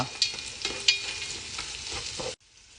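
Garlic, onion and carrots sauté in a pan for pansit bato, giving a steady close sizzle with a few sharp stirring scrapes and clinks, then cutting off abruptly near the end.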